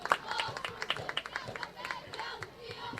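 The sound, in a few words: crowd applause as a football player leaves the field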